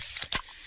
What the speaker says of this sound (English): Oh yeah, that's the sound of a freshly opened fizz-filled Pepsi.